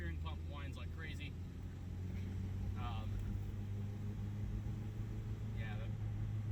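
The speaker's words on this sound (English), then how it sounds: "Power steering pump whines like crazy." A 1978 Honda Accord's power steering pump whines as a steady tonal drone under the running engine, with someone talking over it throughout.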